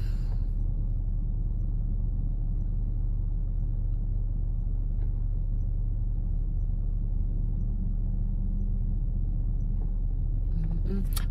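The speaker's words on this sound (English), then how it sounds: "Because I'm going to be in this traffic for a minute." Steady low rumble of car traffic heard from inside a vehicle, a constant engine and road drone that fills the clip with little change.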